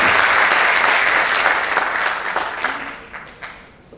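An audience applauds at an academic-industry forum, a crisp burst of many hands clapping that starts strong and thins out toward the end as the clapping dies away.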